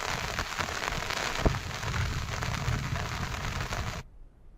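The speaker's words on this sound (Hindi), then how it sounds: "2 दिन से लगातार 12 जिले में बारिश हो रही है" Steady rain falls continuously, a dense even hiss of drops on surfaces with one sharper splash near the middle, then cuts off abruptly near the end.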